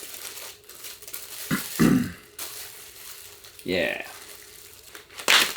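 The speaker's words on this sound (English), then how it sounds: "we put this in an extra plastic bag." A plastic bag crinkles in short bursts while backpacking food is packed, with a few brief loud rustles separated by quiet gaps and a short spoken word.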